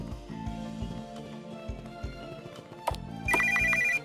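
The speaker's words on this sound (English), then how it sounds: "What kind of oldie-timey ringtone is that?" Old-fashioned telephone bell ringtone in an RPGMaker horror video game, a bright metallic trill bursting in near the end over dark, droning game music.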